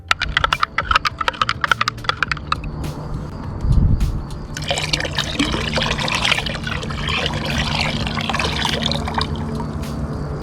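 Liquid spray mix poured into a bucket holding about 9.5 liters of water, a steady splashing pour that follows a run of light clicking taps, close and fairly loud with no speech.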